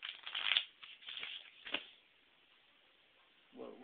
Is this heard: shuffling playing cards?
yes